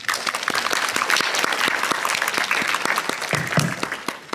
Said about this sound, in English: Round of applause for Nafi